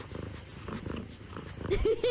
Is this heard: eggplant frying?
no